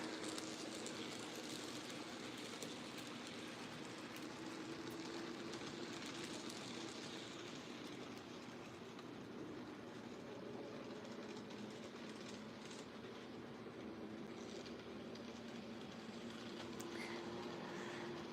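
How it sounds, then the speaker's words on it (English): A small N scale model train rumbles steadily along its track with a continuous clickety-clack, running close by with no break for the whole stretch. "as soon as the train comes back around."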